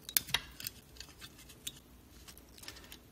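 A Grove shield clipping onto an Arduino board: a few sharp plastic clicks and snaps close up, followed by fainter ticking handling sounds in a quiet room.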